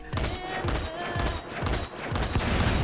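Rapid gunfire in Metal Gear Solid V: The Phantom Pain, a quick run of bursts repeating steadily for about three seconds at moderate level, with no talking over it.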